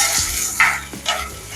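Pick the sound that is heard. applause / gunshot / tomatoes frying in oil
tomatoes frying in oil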